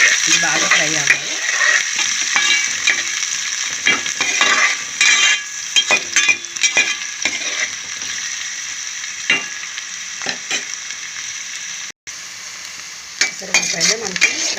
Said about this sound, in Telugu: ఉల్లిపాయలు మనకి ఫ్రై అయ్యాయి కాబట్టి కొంచెం ఫ్రై అవ్వాలి